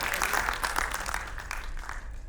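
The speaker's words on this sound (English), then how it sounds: "can I ask all of you to give a huge round of applause to all our children" A hall audience at a school annual day claps together in a dense, sustained burst of applause, fairly loud and steady for a couple of seconds.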